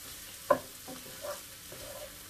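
Jambalaya ingredients sizzling in a pot as they are stirred, a soft steady fry under a few faint scraping strokes and one sharper clink, with no talk.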